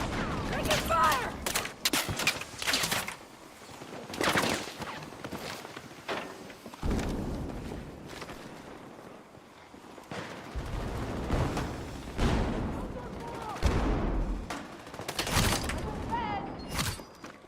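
Bursts of video game gunfire from a sniper-focused shooter crackle in repeated volleys, some rapid like automatic fire, others single loud cracks, with a voice talking over parts of the action.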